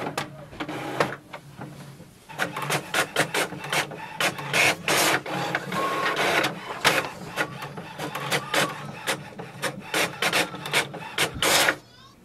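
An HP OfficeJet 8012 inkjet printer prints a document, a rapid series of clicks and whirring passes, fairly close and continuous, with no talking.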